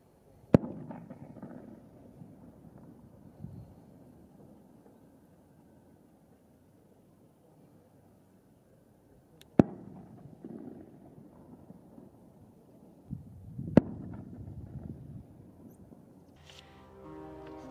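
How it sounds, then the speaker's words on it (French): Firecrackers set off in Yungay, Peru, to prevent avalanches: three sharp, distant cracks several seconds apart over a low outdoor rumble. "ils font exploser des pétards pour pouvoir justement éviter une prochaine avalanche"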